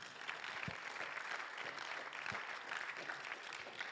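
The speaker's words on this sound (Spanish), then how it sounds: "dale un aplauso al Señor" A church congregation applauds together, a steady wash of clapping hands with a couple of sharper claps standing out, continuous and moderately distant.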